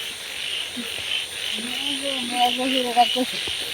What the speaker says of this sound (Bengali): আর চারিদিক দিয়ে দেখবেন কিরম ব্যাঙ্গে হ্যাঁ। ডাকতেছে